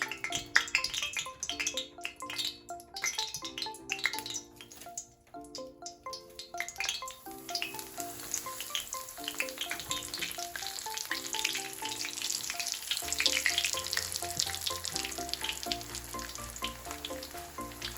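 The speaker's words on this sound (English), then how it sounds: "the oil is hot. I'm gonna go ahead and place the cauliflower in there" Cauliflower steak frying in hot oil, a steady crackling sizzle running throughout, mixed with background music.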